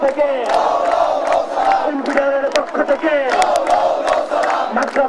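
Students outside BRAC University rally against Israel with loud, rhythmic chanting of protest slogans, many voices shouting together in close, continuous bursts through the whole stretch.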